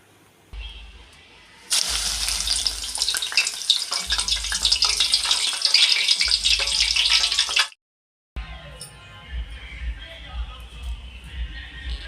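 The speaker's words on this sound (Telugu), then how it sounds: "ఆయిల్ కూడా హీట్ ఎక్కింది దాంట్లో వేస్తూ వేస్తాను" Hibiscus petals dropped into hot oil and frying, a loud broadband sizzle that surges in bursts with brief pauses, close and continuous, with no voices over it.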